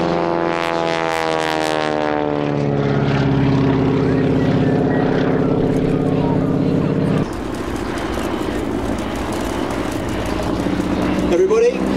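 Propeller aircraft engine droning and shifting pitch as the plane flies an aerobatic wingwalking routine at the Sywell airshow, loud and sustained, with a commentator talking over a public address.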